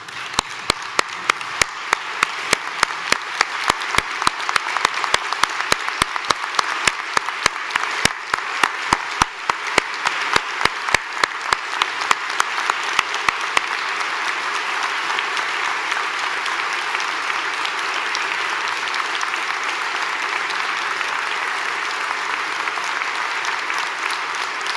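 A university convocation audience applauds at length, opening with distinct rhythmic sharp claps that blend into a dense, sustained roar of clapping from a large crowd, holding steady to the end.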